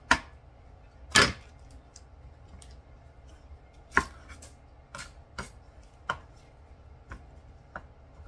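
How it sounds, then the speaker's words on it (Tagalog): Two sticks of celery being cut with a knife, a few sharp, isolated chops on a board spaced irregularly over several seconds against a quiet kitchen background. "I got 2 sticks of celery here. I'm gonna chop it the same size of my condiment here"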